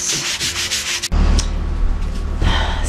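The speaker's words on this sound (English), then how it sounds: "And light sanding between each coat, super light." Light hand sanding of a wooden fascia between varnish coats, a loud, steady rasping scrub that runs close and continuous, with a sharp jump in intensity about a third of the way through.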